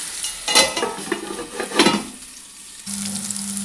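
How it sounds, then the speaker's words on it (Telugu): Bitter gourd fries in a pan with an ongoing sizzle and a few scraping stirs partway through, ending on a steadier hiss. "ఇలా దూరగా వేగనివ్వాలండి"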